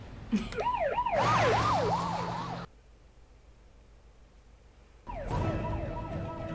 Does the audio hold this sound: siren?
yes